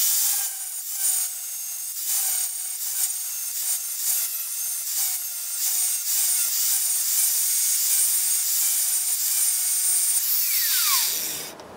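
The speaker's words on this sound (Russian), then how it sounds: "Теперь с внутренней стороны, где будут стоять перемычки, зачищаем сварочные швы шлифмашинкой." Angle grinder cleaning weld seams on the inside of a steel profile pipe frame for a shelving unit, a loud continuous abrasive whine with a steady pitched tone running throughout, then spinning down and stopping at the end.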